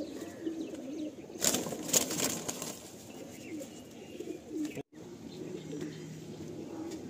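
Pigeons coo in low, rolling bursts nearby at a pigeon sale, with a brief flurry of wing flaps partway through and people talking faintly underneath.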